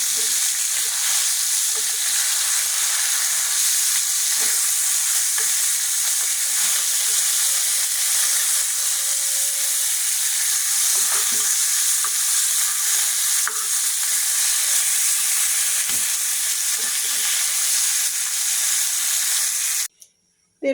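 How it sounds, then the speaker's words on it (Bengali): Pieces of rohu fish fry in hot oil in a home kitchen, a steady close sizzle that keeps on through the flip to the second side, with scattered soft scrapes and knocks, then cuts off near the end. "এক পিঠ আমার ভাজা হয়ে গেছে, আর এক পিঠ উল্টায়ে দিই।"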